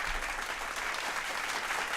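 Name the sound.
applause sound effect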